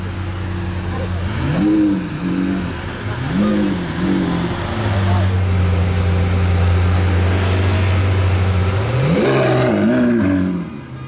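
A Lamborghini Aventador SVJ's V12 blips repeatedly in congested traffic: several sharp rising revs early, a sustained drone, then a final loud surge, close and dominant over the background rumble.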